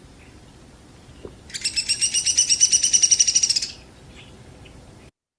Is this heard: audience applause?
no